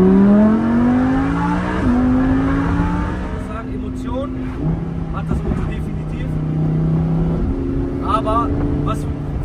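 Sports car accelerating hard through gears, engine pitch climbing in repeated rising sweeps and dropping at each shift, loud and close, with a voice talking over it.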